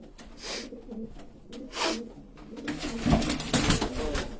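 Racing pigeons coo in soft, repeated low calls close by, with a busier stretch of overlapping cooing and rustling toward the end; no speech.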